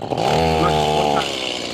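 A chainsaw engine gives a brief, rough, low rumble as it catches, close by, fading slightly toward the end.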